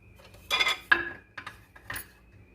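A lid is set onto a pot of simmering Puerto Rican-style sweet sloppy joe, making a few light metallic clinks and clatters, close and moderately loud.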